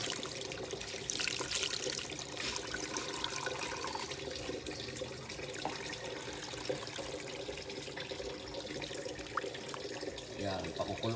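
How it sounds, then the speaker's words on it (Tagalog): Water runs steadily from a tap into a pot, a continuous splashing rush with faint background noise throughout. "Lagyan ko ng tubig."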